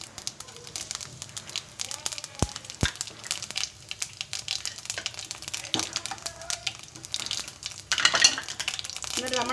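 Mustard seeds and cumin fry in hot oil, giving irregular crackles and popping spatters over a low, busy sizzle, with a few sharp clicks.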